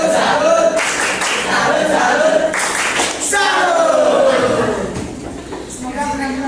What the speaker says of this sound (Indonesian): kita berikan tepuk salut untuk yang ada di depan ini